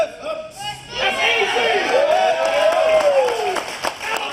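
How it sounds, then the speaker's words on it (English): A crowd at a bench press event cheers and claps, with a mix of whoops and chatter that swells after a moment of quiet and sustains throughout. "and the crowd goes wild"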